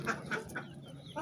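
Tan hens on a farm cluck in a few short, near bursts, with soft background noise between the calls.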